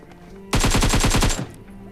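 Automatic gunfire in PUBG Mobile: one loud, rapid burst of about a dozen shots lasting under a second, close and alone over quiet game ambience.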